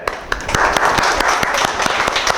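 A burst of applause from a room full of people, dense rapid clapping that swells quickly and holds steady, with a few sharper claps standing out.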